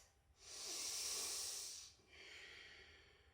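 A full, slow breath during a yoga sun salutation, with a long airy inhale swelling to a soft peak and then a gentler, quieter exhale, close and alone.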